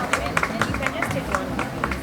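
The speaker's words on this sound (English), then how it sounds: "So let's give her a round of applause." A round of applause at a women's event on cervical cancer screening, sparse, uneven claps from a small gathering with background chatter and voices underneath.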